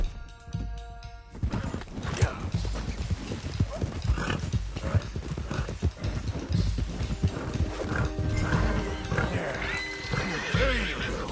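A loose stallion in Red Dead Redemption 2 gallops in a steady, close clip-clop of hooves with whinnies and neighs, while someone talks over it.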